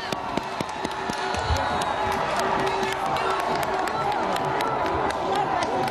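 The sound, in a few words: crowd cheering as Nils Ušakovs leaves the city council building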